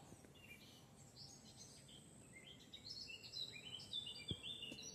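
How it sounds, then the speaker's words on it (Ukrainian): Birds singing near a small fishing pond, faint distant chirps and short whistled calls scattered over a quiet outdoor background, growing slightly busier toward the end. "там пташки співають, їх не видно"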